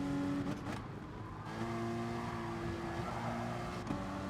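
Race car engines in Gran Turismo Sport, including a Citroen, droning steadily with rising and falling revs as cars run around the track, no talking.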